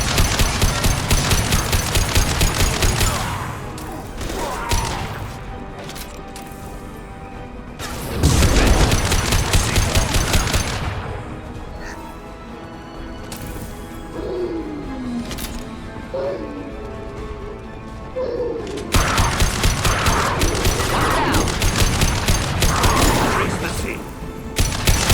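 Rapid automatic gunfire from the video game Mass Effect 2, loud bursts of several seconds alternating with quieter stretches of mechanical clanks and whirring effects, with the firing returning at full intensity near the end.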